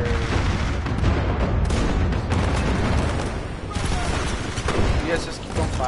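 Gunfire in a multiplayer video game alongside the robot BT: dense, continuous rattling bursts and booms, loud and close, with voices talking over the shooting throughout.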